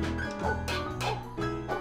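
A cartoon dog barks in anger, about four short, harsh, close barks in quick succession.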